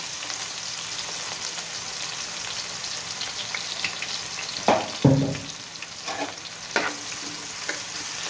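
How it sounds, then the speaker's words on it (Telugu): Large onion pieces frying in oil with bay leaves and dried red chillies, a steady sizzle with a few louder stirring clatters of the spatula partway through. "ఇప్పుడు పెద్దలపాయ ముక్కలు వేసుకుందాం"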